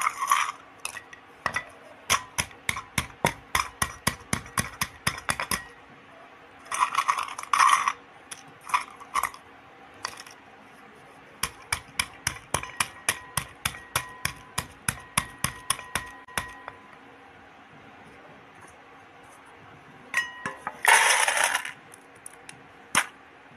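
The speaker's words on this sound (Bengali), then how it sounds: "এই যে ভাজা বড়িগুলোকে আমি হামানদিস্তায় গুঁড়িয়ে নিচ্ছি।" Fried lentil dumplings (bori) crushed in a metal mortar and pestle, with rapid rhythmic metallic clanks in several long bursts, sharp and close, pausing between runs and ending in a brief grinding scrape, with no talking.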